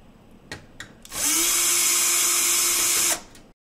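A power screwdriver loosening the screws of a computer case, with a couple of short clicks, then one close, loud, steady whirring burst lasting about two seconds before spinning down.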